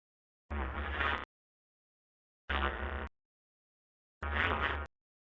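Three short synthetic voice connector sounds from the Half-Life: Alyx video game, each under a second long, evenly spaced with silence between, close and alone.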